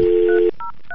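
Telephone keypad tones for a cold call: a single loud, steady dual-tone beep, then two shorter, fainter key tones spaced apart, with no voices.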